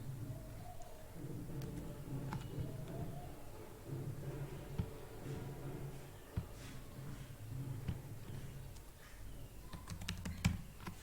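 A line of text is tapped out on a computer keyboard in a long, uneven run of close keystrokes with a few louder clacks near the end, over a faint steady hum and without speech.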